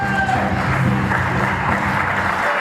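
Wild crowd cheering and applauding in a UK wrestling arena after a debut match, a dense, steady roar of clapping and shouts filling the hall throughout.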